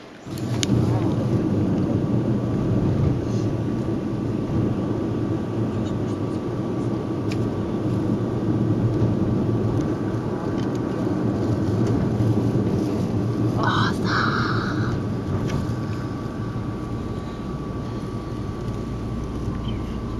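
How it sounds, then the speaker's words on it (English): Steady low rumble of a boat engine and water rushing past on a ride in Luxor, Egypt, continuous and loud throughout, with a brief higher whine near the middle. "now we have a boat ride"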